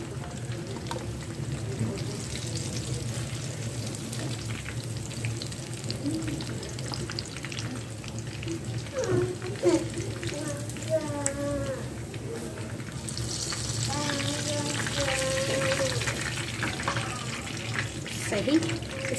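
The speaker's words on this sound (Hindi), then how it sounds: "इसी तरह मैं और फ्राई कर लूँगी" Fish frying in oil on a high flame, a steady low sizzle throughout with faint voices over parts of it and a louder, brighter hiss toward the end.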